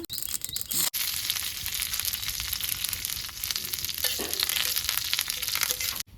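Curry leaves and mustard seeds fry in very hot oil in a pan for a fafda chutney tempering, making a loud, dense, crackling sizzle that barely lets up, with one brief break near the start.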